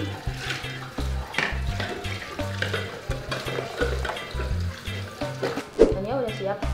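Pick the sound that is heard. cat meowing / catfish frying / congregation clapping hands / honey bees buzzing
catfish frying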